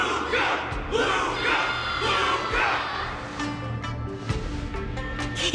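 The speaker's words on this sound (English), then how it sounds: "Can't you hear? Everyone's cheering for you, Luka." A large crowd in a video game cheers and roars steadily, with swelling rhythmic shouts rising and falling, heard at a distance.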